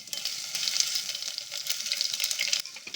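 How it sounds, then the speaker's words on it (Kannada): Crushed garlic and cumin fry in hot oil with a bright, crackling sizzle that runs steadily and close up, with faint stirring clicks and no talk over it. "ಬೆಳ್ಳುಳ್ಳಿ ಮತ್ತು ಜೀರಿಗೆ ಜಜ್ಕೊಂಡಿದ್ದೆಲ್ಲ ಅದು ಹಾಕ್ಕೊಳ್ತಾ ಇದ್ದೀನಿ"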